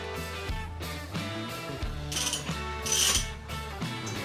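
Ratchet clicking as a motorcycle engine is turned over by hand while setting the cam chest and pushrods to top dead center, with steady close mechanical clicks and several louder ratcheting bursts, no talking.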